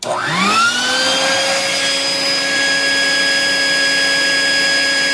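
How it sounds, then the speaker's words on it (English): A vacuum cleaner powered by an off-grid 12V-to-110V solar inverter switches on and spins up quickly to a steady high-pitched whine, running loud and close without any talking. "This particular thing can run other things very easily, like a vacuum cleaner."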